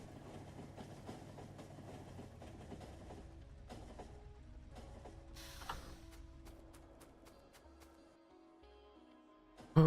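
A train runs in the factory-building game Factorio, giving a low mechanical rumble with rhythmic clacking that thins toward the end before a sudden louder burst.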